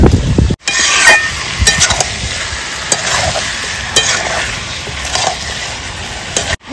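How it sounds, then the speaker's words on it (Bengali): Chicken pieces pressed and stirred while sautéing in a pan for a village-style chicken curry, loud continuous sizzling with scraping strokes of a spoon throughout. "চাপা দিয়ে দিয়ে কষিয়ে নেবো আমি মাংসটা।"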